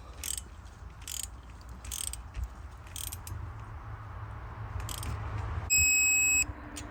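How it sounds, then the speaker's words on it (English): A torque wrench ratchets steadily on the exhaust manifold bolts of a Mercedes Sprinter 2.1L diesel, producing quick repeated clicks. The sequence ends with a short, loud electronic beep when the 15 Nm setting is reached. "the very first thing you're gonna need to do is torque these two"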